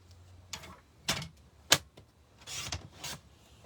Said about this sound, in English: Now that third 3 3/4 inch square of basic white, I'm going to cut that diagonally too.